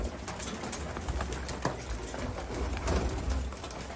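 Racing pigeons coo steadily while crowding in to feed, a dense, continuous murmur of soft calls with wing flutters and shuffling close by.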